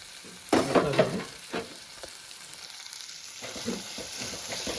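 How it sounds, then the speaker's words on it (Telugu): Tomatoes simmer in a covered pan during a bamboo-shoot curry, giving a soft steady sizzle with a few louder bursts of stirring or lid clatter near the start, then a quieter bubbling hiss that swells again toward the end. "టమాటా ఉడకడానికి మూత వేసుకుందామండి"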